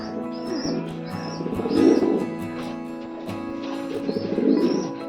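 Pigeons at a fancy pigeon farm give soft, low, rolling coos in two close swells, with faint chirps scattered over the top.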